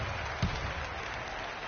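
Basketball video game crowd cheering and applauding, a steady broadband roar of fans with one brief louder burst, continuous throughout.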